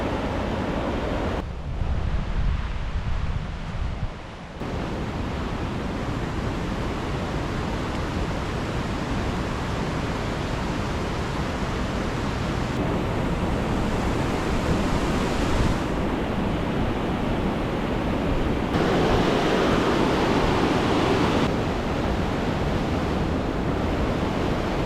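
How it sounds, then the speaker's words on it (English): A snowmelt-fed mountain river in the Sierra flows out of sight: a steady, dense, full-bodied rushing roar that holds unbroken throughout. "Right now I can hear the river,"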